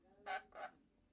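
A pet bird, which appears to be a goose- or fowl-like species, gives two short, quiet honking calls in quick succession at close range, followed by near silence.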